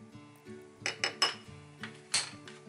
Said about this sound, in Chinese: 接着就把这个神秘的辣炒年糕酱料搅拌均匀